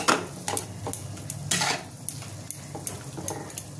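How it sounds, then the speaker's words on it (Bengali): Red amaranth greens (lal shak) stirred in a pan in a home kitchen, with a spatula scraping and clinking against the metal at a steady irregular rhythm over a low background sizzle, close and moderately loud, no voices. "এটা আমি ভালো করে নাড়বো।"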